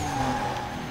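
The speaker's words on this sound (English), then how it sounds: "Clean drift." Car drifting through a corner in the racing game Need for Speed Most Wanted, with a sustained tire squeal over steady engine drone, loud and continuous for a moment.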